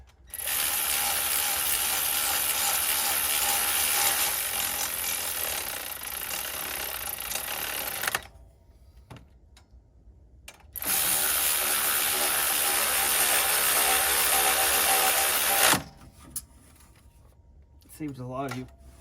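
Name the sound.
Ryobi cordless power tool ratcheting during water pump job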